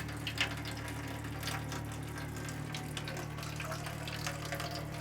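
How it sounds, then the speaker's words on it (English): A loud pump hums steadily while water for a wet-plate photography tray splashes and trickles over it, a continuous low drone close by. "Loud pump."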